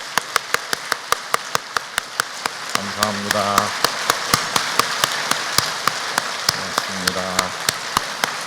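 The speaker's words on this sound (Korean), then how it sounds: "우리 하나님께 영광 박수 올려드리겠습니다" Applause from a church congregation at a new-year prayer service, steady rhythmic claps in unison with a voice speaking briefly over them.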